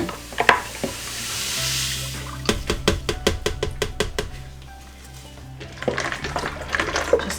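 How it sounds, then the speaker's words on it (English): Lye being stirred into water to dissolve it during natural soap making, heard as a run of quick, evenly spaced scraping clicks in the middle, with a soft hiss before and scattered scraping and clinks after. "Just giving these a stir"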